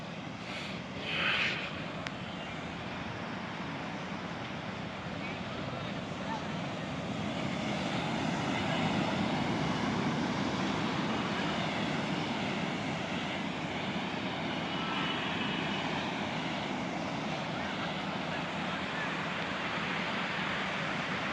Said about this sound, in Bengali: এটা হলো পুরীর রাতের সমুদ্র